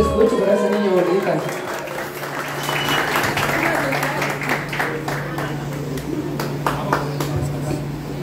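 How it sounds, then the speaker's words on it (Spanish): Steady applause at a quinceañera for the birthday girl Luciana, with a mariachi band present, clapping continuing throughout at moderate loudness with some voices mixed in. "Y ese bonito, fuerte aplauso que te escucho para esa niña bonita."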